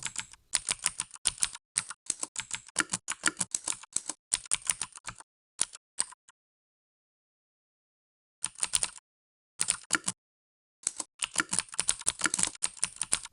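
Typing a SQL delete statement on a computer keyboard: close, rapid bursts of key clicks broken by a long silent pause in the middle, then resuming in quick runs.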